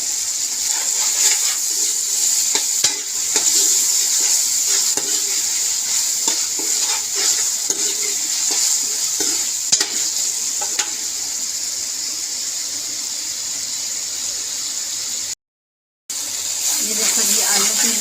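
Cut potatoes fry in masala in a pan for aloo baingan sabzi, a loud continuous sizzle broken by repeated scraping stirs, with a brief gap near the end.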